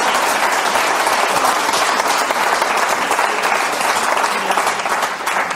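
A theatre audience at a humorist's stage performance bursts into loud, unbroken applause. The clapping stays dense and even throughout, easing only slightly at the very end, with no voices over it.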